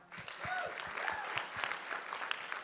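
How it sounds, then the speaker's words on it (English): An audience at a live Shabbat gathering breaks into applause, a dense, steady patter of many hands clapping that holds at moderate loudness for the whole stretch. "Big round of applause for that."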